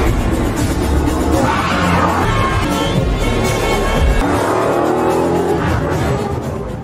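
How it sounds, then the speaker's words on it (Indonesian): A car speeds through a tense chase scene in a Liam Neeson action film, its engine roaring loud and steady throughout, with a brief tire screech and dense layered movie sound effects. "Dia mempercepat laju kendaraannya dan berusaha menghindari kejaran Travis"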